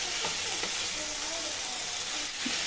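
Boiled chicken pieces being stirred into a tomato masala for chicken fry piece biryani, a steady close sizzle with occasional scraping of the spoon against the pan throughout.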